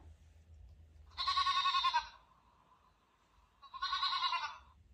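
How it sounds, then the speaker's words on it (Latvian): Two loud bleats from a young goat, close by, separated by a short pause over a low steady hum. "Kazlēns blēj."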